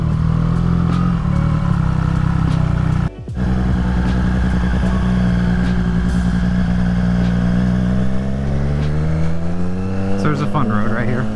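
A 2024 Triumph Street Triple RS motorcycle is ridden on a road, its engine droning loud and close with a steady hum that rises and falls through gear changes, and a rider speaks over it.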